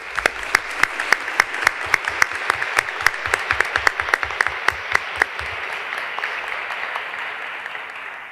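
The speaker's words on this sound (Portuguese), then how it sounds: "Uma salva de palmas." A plenary session audience gives a round of applause for students, clapping with a steady regular beat that thins out and fades near the end.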